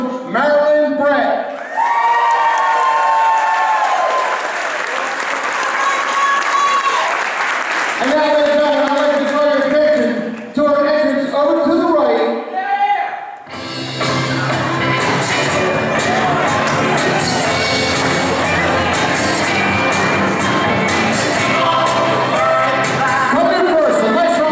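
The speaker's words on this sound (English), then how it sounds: "a nice round of applause for the grandmother of the groom, Marilyn Brett" Wedding guests clap and cheer at a reception as family members are introduced, with whoops and crowd noise that shift partway through into a louder, fuller burst with music-like tones.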